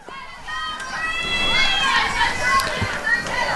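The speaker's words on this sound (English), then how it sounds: "The Lions in their home crowd are definitely getting loud here in extra time." Home crowd cheering during extra time of a women's college soccer championship match, Piedmont versus Maryville: a loud, swelling roar of voices and whoops that builds and holds, with whistles and shouts mixed in.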